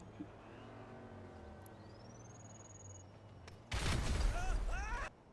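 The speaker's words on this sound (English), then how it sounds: "I'm going to use a grenade. Throw it here so it harms them but hopefully doesn't injure them." In GTA 5, a thrown grenade detonates in a sudden loud, broad burst about a second long, cutting through faint ambient game noise and tonal engine hum, followed by crackling debris and whistling tails before fading.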